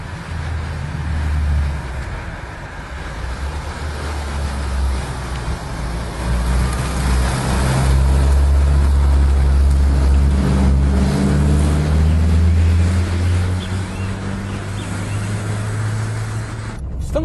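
A Fiat Tipo Sedicivalvole 2.0 16-valve sedan drives along, its engine revving up loudly with rising harmonic whine over road noise, then easing off near the end.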